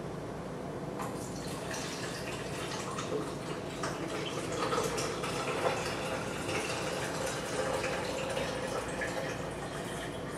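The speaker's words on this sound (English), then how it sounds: "So what we do next is we pour off the buttermilk" Buttermilk pours steadily out of an antique butter churn in a continuous liquid splash and trickle, close and moderately loud, with no talking.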